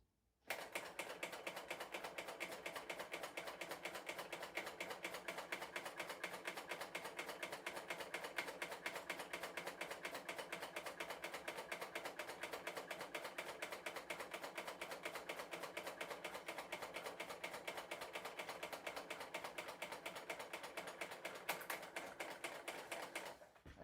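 A serger sews with metallic thread, its tension giving a clacky, rapid, steady mechanical clatter close up that runs unbroken for over twenty seconds with no talking.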